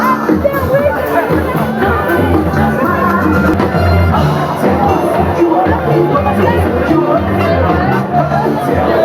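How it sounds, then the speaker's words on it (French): Concert crowd at a live music show applauding and cheering for a band, a loud dense roar of clapping, cheers and chatter sustained throughout. "On applaudit tout le monde ici. Tout le monde on applaudit."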